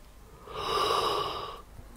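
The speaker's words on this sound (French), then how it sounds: "vous allez ouvrir grand la bouche et bâiller en même temps" A single long, breathy yawn during a home cardio workout, rising and fading over about a second, close and moderately loud, with no talking.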